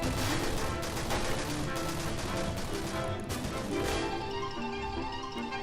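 Heavy rapid gunfire, a dense continuous fusillade of loud shots with crashes, lasting throughout at close range.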